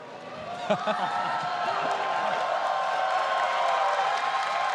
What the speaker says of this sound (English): And an applause.